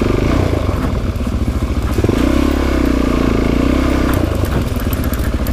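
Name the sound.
motorcycle engine revving on a forest loop road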